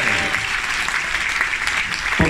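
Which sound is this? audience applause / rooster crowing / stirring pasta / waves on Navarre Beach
audience applause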